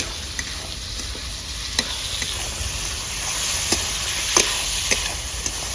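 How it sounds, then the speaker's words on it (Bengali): Tomatoes frying in a pan for a shahi cauliflower dish, a constant close sizzle with scattered light clicks of stirring, alone without speech. "ভাজা হয়ে গেছে, এবার দিয়ে দেবো এখানে টমাটোগুলোকে"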